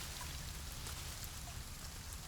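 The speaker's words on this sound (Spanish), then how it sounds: "Las gotas de lluvia en las hojas del árbol." Raindrops patter on tree leaves in a soft, continuous wash of fine drips, faint and even, with no talking.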